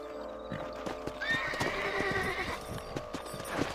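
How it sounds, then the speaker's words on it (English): Horses in the Red Dead Redemption video game trot with steady clip-clop hoofbeats while one neighs loudly partway through, with no talking. "Let's get back on the horses and see what else is going on."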